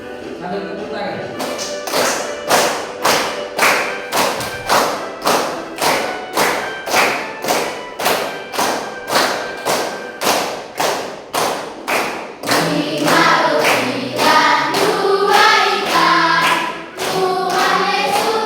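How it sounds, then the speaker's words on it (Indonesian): A class claps hands together in a steady, even beat while singing a children's hymn; sharp rhythmic claps repeat alone at first, then singing voices join over them. "Sambil tepuk tangan."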